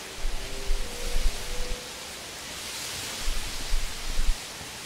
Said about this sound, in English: The wind's pretty loud, isn't it?